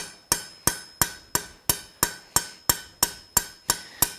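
Light, rapid hammer blows ring on hot steel at an anvil while a blacksmith forges a drift, twelve sharp metallic strikes at an even pace, each close, loud and decaying quickly between hits.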